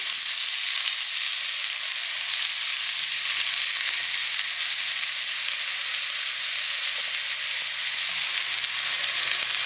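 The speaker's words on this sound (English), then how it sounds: "Put a little red onion down first, and put a little squash in here." Red onion and squash sizzle steadily in a pan on the stove, a continuous bright frying hiss that stays at the same level throughout with no voices.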